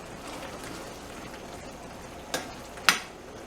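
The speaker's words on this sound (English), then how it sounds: "Mix it up good." Meat and noodles with mozzarella cheese are stirred in a pan, a faint steady sizzle with soft scraping and two sharp clinks of the utensil near the end.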